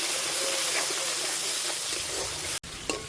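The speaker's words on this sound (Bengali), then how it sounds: "একটু ভেজে নেব।" Spices with salt frying in hot oil in a pan for potato dum, a loud, steady close sizzle and hiss with a brief break near the end.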